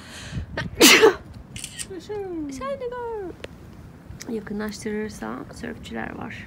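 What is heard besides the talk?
sneeze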